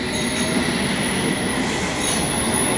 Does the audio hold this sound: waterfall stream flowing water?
no